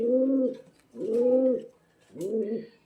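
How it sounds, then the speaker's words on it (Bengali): A Pakistani pigeon coos three times in a slow, even rhythm, each soft throaty call close by with short pauses between. "বেগুনি কালার যে কবুতর ছিল সেই কবুতরের"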